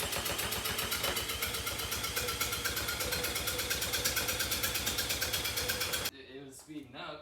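A cheap $50 quad runs its muffled engine in a fast, even putter of pulses for about six seconds, then it cuts out abruptly and a few faint scattered noises follow.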